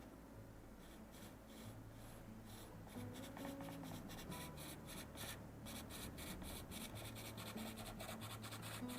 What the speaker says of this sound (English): I'll soften the shadows by also lightly shading in on top with the Conte A Paris 54